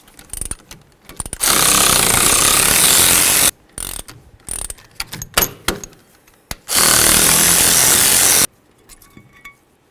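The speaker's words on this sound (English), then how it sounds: "Now the next thing we need to do is remove our caliper bracket bolts." Rear brake caliper bracket bolts being loosened on a Chevy S-10 pickup, with long continuous bursts of a loud air or power ratchet separated by short clicking and clanking of tools, close up and without talk.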